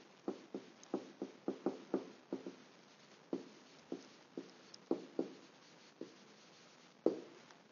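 Pen or pencil strokes on paper during a geometry lesson, a quiet series of short scratchy marks in quick bursts followed by more spaced single strokes, close up with no talking.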